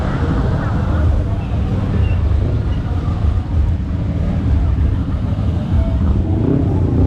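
Traffic jam of cars and tuk-tuks just outside Tha Phae Gate in Chiang Mai during Songkran, a loud, continuous low engine rumble and street roar with wind buffeting the microphone.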